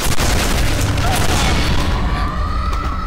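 Rockets firing and exploding in Quake 4, a continuous loud barrage of booms and bursts that rumble together without a break, then thin toward the end.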